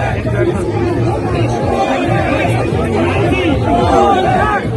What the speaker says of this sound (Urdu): عمران خان زندہ باد کے نعرے لگ رہے ہیں